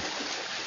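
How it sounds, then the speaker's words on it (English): Swimmers in a triathlon, 142 hands stroking through the water, make a brief burst of continuous rushing splashes that sounds close and steady. "142 hands swimming a triathlon."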